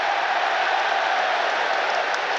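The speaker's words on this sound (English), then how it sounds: "Big cheer from the Amex crowd as Anthony Taylor gives the Albion a chance to take the free kick." Stadium crowd at the Amex, Brighton, roars and applauds as a free kick is given during a Brighton & Hove Albion versus West Ham United football match, a dense, sustained wash of cheering throughout.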